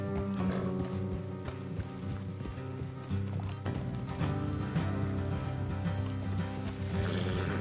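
Horses gallop along a road in the video game Red Dead Redemption 2, a steady clip-clop of hooves woven through a dense, loud musical score, with no talking.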